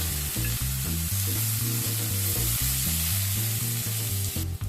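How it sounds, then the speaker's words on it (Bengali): Medium sliced onion frying in spiced oil tempering for pomfret curry, a loud, dense, close sizzle with regular rhythmic stirring or scraping pulses throughout, no voices. "এবার এর মধ্যে একটা মিডিয়াম সাইজের স্লাইস করে কেটে রাখা পেঁয়াজ অ্যাড করে দিলাম"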